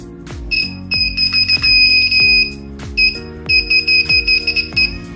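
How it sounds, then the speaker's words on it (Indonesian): Repeated electronic buzzer tones from a homemade wire-touch game beep in short bursts, loud and close, sounding when the wires touch, with a steady rhythmic pattern of sounding and stopping. "alarm berbunyi karena ini bersentuhan"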